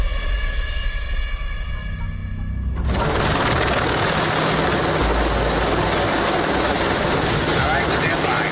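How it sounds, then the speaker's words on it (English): Low-flying helicopters over a city street during a film shoot, a loud rotor roar that swells in abruptly after a quieter tonal passage and then holds steady, thick and close. "all the low-flying helicopters"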